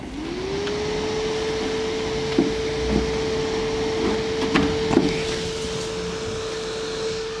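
An incubator fan starts up with a rising whine that settles into a steady loud hum, joined by a few faint knocks and clicks as it keeps running.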